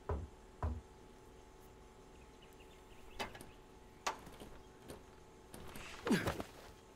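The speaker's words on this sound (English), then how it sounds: "You chopped down that door" Hatchet blows striking a battered wooden door in King's Quest, a handful of separate sharp knocks spaced out over several seconds, the last one heavier with a creaking crack, over quiet background music.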